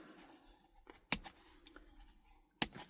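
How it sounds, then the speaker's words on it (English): Scissors snipping the binding threads of planner signatures: two sharp, close cuts about a second and a half apart against a quiet background. "You can either go like this with some scissors, and I'm literally cutting"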